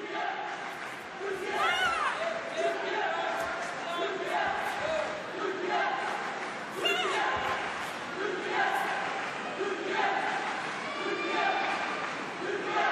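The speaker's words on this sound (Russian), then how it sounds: "Очень оживились болельщики сборной Турции" Turkish national team supporters chant and cheer loudly in an indoor arena during Nur Tatar's taekwondo bout, a continuous crowd roar with rhythmic chanting surges.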